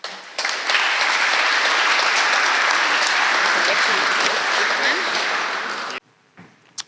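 An audience at a talk on assisted natural regeneration applauds to welcome a speaker, a steady, loud wash of clapping that lasts about six seconds and then stops abruptly.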